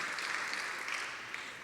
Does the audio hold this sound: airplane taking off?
no